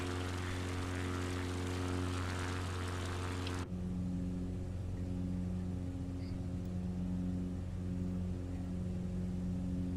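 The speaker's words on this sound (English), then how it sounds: "No, this is a Cub Crafter." A CubCrafters propeller aircraft engine in Microsoft Flight Simulator 2020 drones with a steady tonal hum. Partway through, the bright upper layer of the sound cuts out and a lower, mellower drone continues.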